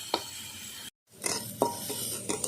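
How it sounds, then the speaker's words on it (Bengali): Shrimp frying in a pan give a low sizzle with repeated scraping stirs and utensil clinks, broken by a short gap of silence in the middle. "চিংড়ি মাছ আগে ভেজে তুলে নেব ভালো করে"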